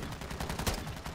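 Rapid gunfire aimed at a Harvester Orb in Call of Duty: Modern Warfare III Zombies, a dense, steady burst of shots lasting about a second with a louder crack near the middle.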